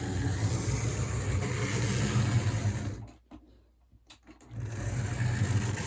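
HO scale GP7 model locomotive running on track with a steady, fairly loud motor whir and hum, dropping out briefly mid-clip as it stalls, then resuming.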